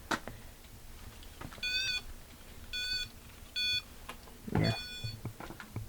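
A spirit box device emits a series of short, sharp electronic beeps in separated bursts, close and moderately loud over a faint hiss, with a brief voice and a soft cat-like sound between them.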